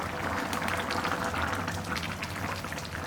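Kurma curry with ridge gourd simmering in a covered pot, a soft steady bubbling hiss with faint pops, quiet and continuous with no talk.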